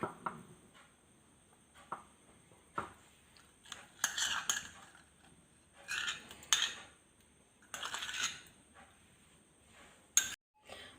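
A spoon stirs butter chicken masala gravy in a pan, giving scattered metallic clinks and scrapes in quiet, irregular bursts.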